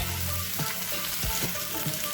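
Chicken sizzles and spatters steadily in hot oil, a dense continuous crackle with occasional louder pops, close up.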